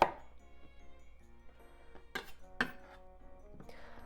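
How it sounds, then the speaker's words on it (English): A kitchen knife trims the ends off a cucumber on a cutting board for Japanese asazuke cabbage pickles, giving a few sharp, separate clicks and knocks against faint background tones. "Cucumber, cut the end off"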